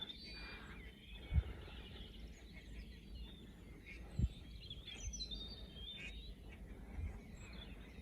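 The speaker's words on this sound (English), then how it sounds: "the birds are chirping" Birds chirp faintly in a back garden at dawn, soft scattered calls over a low steady outdoor hum, with a couple of brief louder knocks.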